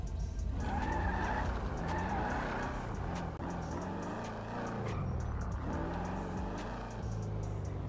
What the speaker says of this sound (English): Come on, car, start.